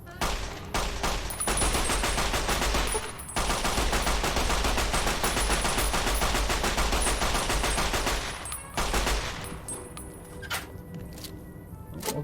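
Sustained rapid gunfire in Fallout: New Vegas, a dense continuous rattle of automatic shots lasting several seconds, then thinning to scattered single cracks toward the end.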